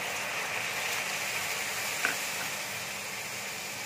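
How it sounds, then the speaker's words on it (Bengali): Spices go into coconut that has been lightly fried in a pan, giving a faint, steady sizzle with a brief clink near the middle and no talking. "দেখো, নারকেলটা হালকা করে ভাজা হয়ে গেছে। এবার আমি মশলাটা দিয়ে দিচ্ছি।"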